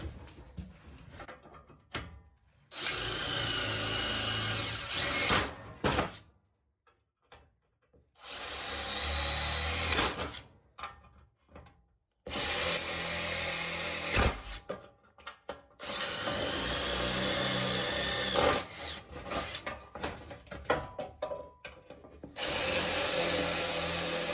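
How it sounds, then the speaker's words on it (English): A power drill bores out spot welds on the body panel of a 1972 VW Super Beetle, running in several long, loud whining bursts separated by short pauses. "So I have to drill them off now to take this piece off."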